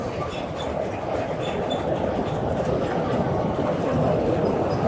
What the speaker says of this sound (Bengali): আর একটা ট্রেন যাচ্ছে পদ্মা সেতুর উপর দিয়ে, একটা ট্রেন।